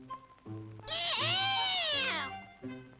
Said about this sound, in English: It's only a cat, and you rolled over its tail.